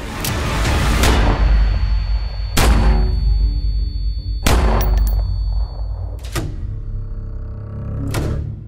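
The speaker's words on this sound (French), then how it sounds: "3 balles, à bout portant." Gunshots fired at point-blank range during a dramatized burglary crack out one after another, about six loud, sharp bangs spaced a second or two apart, each with a ringing, echoing decay.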